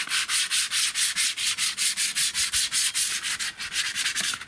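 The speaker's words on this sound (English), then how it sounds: "I'm going to give them a light rub with the 240 grade abrasive just to get rid of some of this rust deposit" Light hand sanding of a rusty metal garden chair with 240 grit abrasive, a steady fast run of rhythmic back-and-forth rasping strokes, close and loud with no talking.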